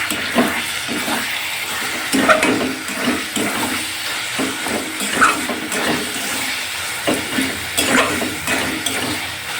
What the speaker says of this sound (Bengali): গ্যাসটা একটু জোরে দিয়ে এবার নিচেরটা নেড়ে দেবো